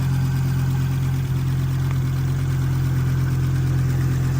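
A 1988 Audi Ur Quattro with the MB engine idles steadily and close by after a hard run, a strong low hum running evenly throughout with a faint electric cooling fan whir above it.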